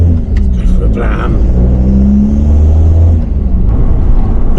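A car with a PD150 engine revs and accelerates on a drive, giving a loud, close, rumbling rise in pitch that holds steady, with voices talking over the engine.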